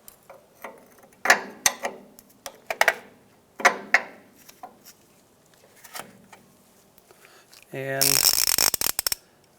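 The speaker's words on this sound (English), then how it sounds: "To spin off our top one, we're going to have to lock down our bottom one. We're going to use a 15 millimeter wrench on the bottom." Wrench and socket work on the front shock nuts of a 1992-1996 Ford F-150, with scattered metallic clicks and clanks, then a brief burst of rapid ratcheting near the end, and a voice speaking briefly.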